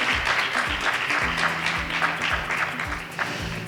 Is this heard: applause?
yes